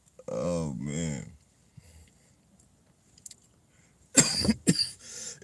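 A man coughs sharply two or three times in quick succession, close and loud, after a stretch of his own speech.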